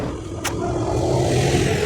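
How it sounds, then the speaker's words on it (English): Bus pulling up to a stop on a road in Peru, a steady engine rumble close by with a brief sharp hiss near the start. "The bus is here."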